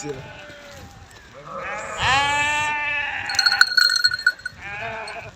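Goats in a village bleat in a few wavering, nasal calls that rise over nearby background talk, with a higher bleat near the end.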